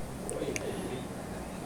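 Pet pigeons kept for sale give a soft, faint coo with a couple of short chirps, close by, over a low background hum.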